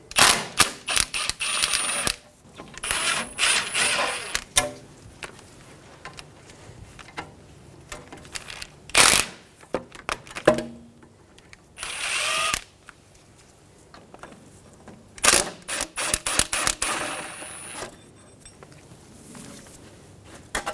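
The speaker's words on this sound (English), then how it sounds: "Using an 8mm socket, remove the 3 bolts for the backing plate." A ratchet with an 8mm socket works the backing-plate bolts on the front wheel hub of a 2007–2017 Ford Expedition, with bursts of quick metallic clicking separated by short pauses and clanks.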